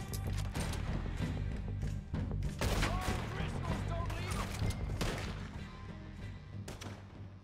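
Gunfire in the video game Red Dead Redemption 2 during a Dead Eye sequence, several loud close shots and thuds in quick bursts over a droning game score.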